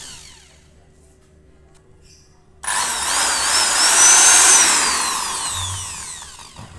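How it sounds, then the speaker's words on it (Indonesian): A Bosch GSB 550 drill with a 12 mm bit bores into wood, starting abruptly after a quiet stretch and holding a loud, steady, whining grind that swells slightly as the bit bites deeper. "sekarang saya mau menguji kekuatan bor ini menggunakan mata bor ukuran 12 mm"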